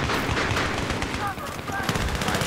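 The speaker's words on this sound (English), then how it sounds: "My god, there's just so much gunfire." Dense, continuous gunfire from close-quarters combat in the video game Battlefield 3, rapid cracking bursts overlapping throughout, with a voice talking over the shooting.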